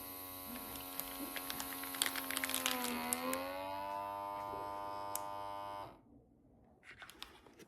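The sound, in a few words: ZKIRON handheld vacuum sealer sealing a small bag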